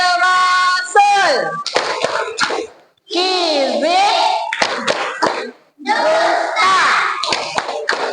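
Schoolchildren at an elementary school chant in unison while clapping in short rhythmic bursts, loud and close, their voices and claps alternating in a classroom clap routine.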